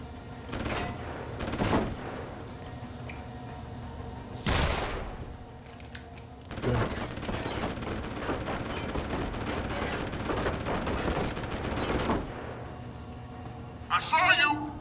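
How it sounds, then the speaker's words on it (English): Gunfire in a video game, with loud separate bursts of shots spread across the clip and heavier volleys in the middle, heard under a player's talk. "Who's shooting me from where?"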